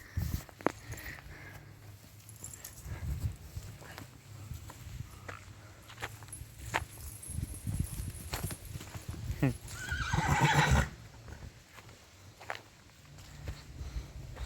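A mare whinnies loudly near the end while hooves clop steadily on the ground, with some talking underneath.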